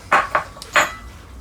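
Metal angle irons fitted onto a wooden cold frame lid, heard as three separate close, sharp metallic clanks in quick succession, each fading fast, with a faint tap between them.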